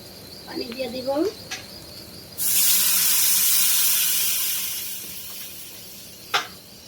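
Water is poured into a hot pan of fried dal during cooking, bursting into a loud steady sizzle that slowly fades, after brief clinks of utensils and a short scraping sound.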